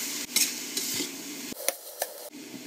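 Finely grated carrot and finely diced onion sweating in a pan, a soft sizzle broken by spoon scrapes and light clinks against the metal, close and without talk.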